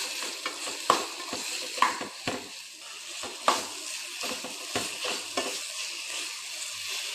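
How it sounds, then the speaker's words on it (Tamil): Onion, tomato and grated coconut are sautéed together in a pan for a Catla fish curry masala, with a soft sizzle under repeated scraping and stirring strokes of a spoon. "தேங்காய் போட்டு நல்லா சேர்த்து எல்லாத்தையும் வதக்கணும்."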